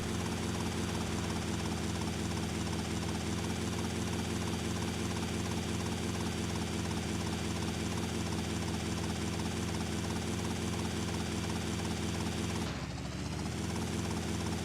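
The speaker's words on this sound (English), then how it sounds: "The helicopter's going to be destroyed soon" A helicopter in the Grand Theft Auto: Vice City game drones continuously with a steady rotor chop and engine whine, loud and close throughout, with a brief dip near the end.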